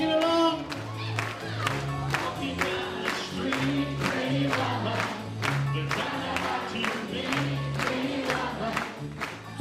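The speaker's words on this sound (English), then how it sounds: "Clapping your hands and singing along." Audience clapping along in time during a song at a radio tribute concert, steady rhythmic claps over music with a low bass line, moderately distant and even throughout.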